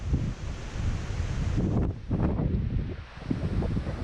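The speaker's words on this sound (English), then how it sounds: "This wind." Gusty wind buffets the microphone outdoors during a Colorado elk hunt, a continuous loud rumble that swells and dips, with no voices.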